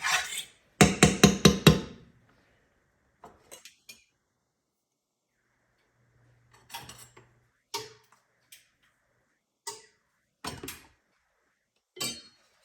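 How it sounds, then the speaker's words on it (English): Flour stirred in a bowl to break up lumps: a quick run of bright metallic clicks against the bowl, then scattered single clinks spread across long quiet gaps. "All I'm trying to do is trying to get the lumps out of the flour"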